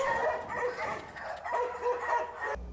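Several dogs in an animal shelter bark and yip in quick, overlapping bursts that echo nearby, with whimpers mixed in.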